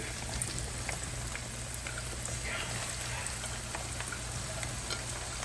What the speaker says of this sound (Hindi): ये प्याज डाल देती हूँ इस तरीके से। इनको भी इसमें फ्राई कर देंगे।